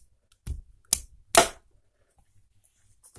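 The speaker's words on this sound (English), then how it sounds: "You just flick the back end of this missile and" A LEGO Star Wars Boba Fett's Starship microfighter, set 75344, has its plastic missile flicked and fired, giving three sharp, close plastic clicks and snaps, the last one loudest, then near silence.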